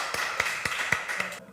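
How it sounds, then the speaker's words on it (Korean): A congregation at a Korean church's Sunday worship service claps in welcome, a brisk run of sharp hand claps at moderate distance for about a second and a half before it cuts off. "우리 환영의 박수 하나님께 올려드리겠습니다."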